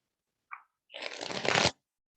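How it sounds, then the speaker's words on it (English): A brief tap followed by a quick riffle shuffle of playing cards, close and crisp, ending in a short bridge-like flutter. "Shuffle one more time."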